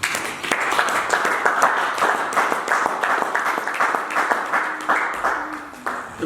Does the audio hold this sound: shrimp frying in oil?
no